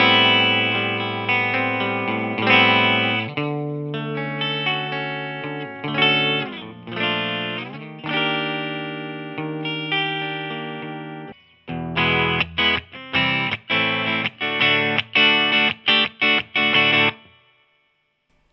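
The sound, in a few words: Vintage Icon V52 electric guitar played on bridge pickup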